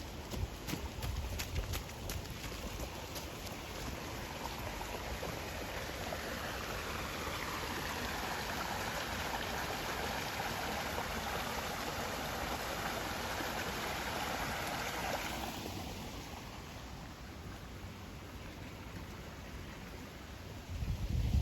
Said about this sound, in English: Love that sound of running water and stream.